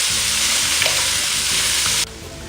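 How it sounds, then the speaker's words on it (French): Langoustine tails frying in hot oil over medium heat while being stirred, a loud close sizzle with light scraping stirs, then the hiss drops abruptly near the end; no talking. "Quand l'huile est chaude, vous y mettez vos queues de langoustine."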